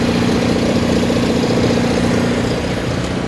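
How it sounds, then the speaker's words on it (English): A 1983 Toyota barn-find engine, revived after 15 years sitting, idles steadily and no longer floods, a loud, even mid-pitched running note that holds constant throughout with no talk over it. "the motor sounding a lot lighter and healthier"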